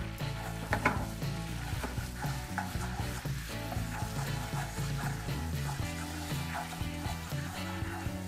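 Garam masala sizzling steadily in melted butter in a pan, stirred throughout with scraping utensil sounds, close and continuous with no talking.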